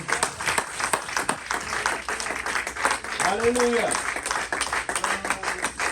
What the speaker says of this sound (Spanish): Alguien da un aplauso fuerte al Señor.